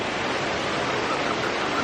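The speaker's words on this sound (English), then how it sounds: "So we are here hanging out at the waterfall." Waterfall on a family hike, a dense, steady roar of rushing water heard close and continuous, with no break.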